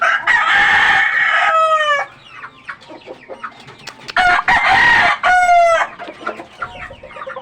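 A rooster crows loudly twice, close by, with hens clucking softly in the pauses between the crows, in a backyard flock where some birds are going lame.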